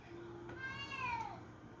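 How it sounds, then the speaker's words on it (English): Indoors, a house cat gives one drawn-out meow with a falling pitch, fairly faint against a low background hum, with no one speaking over it. "There goes my cat meowing."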